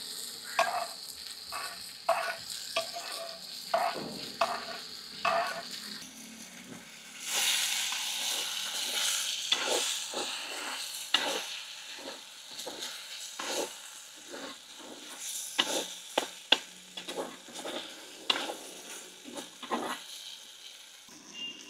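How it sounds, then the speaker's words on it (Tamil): Soya meat sautéing in oil with tomato, garlic, onion and green chilli, soft sizzling broken by repeated scraping and clicking stirring strokes, fairly quiet and close, with a louder burst of sizzle partway through. "எல்லாத்தையும் சேர்த்து நல்லா எண்ணெயில் வதக்கி எடுக்கணும்."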